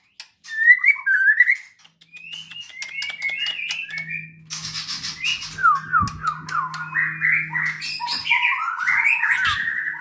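A white-rumped shama sings loud, varied whistled phrases close by, with rapid trills and fluting notes repeating over a faint low hum.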